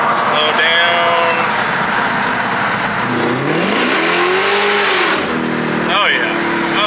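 Dodge Demon 170 V8 accelerating hard, a loud roaring engine climbing in pitch through a pull, then easing off, heard from inside the car with road noise and some voices.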